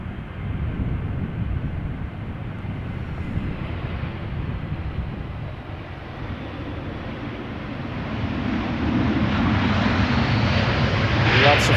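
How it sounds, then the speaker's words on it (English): A 14-year-old Airbus A320, first flown in 2009, arrives at Amsterdam Schiphol from Milan. A moderate, steady engine rumble builds louder toward the end, with no voices over it. "Arriving from Milan, A320."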